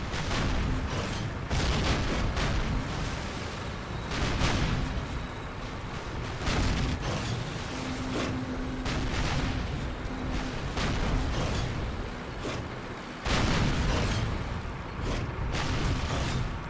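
A tank's main cannon fires repeatedly in Call of Duty: United Offensive, heavy booms landing every second or so amid dense, loud battle noise.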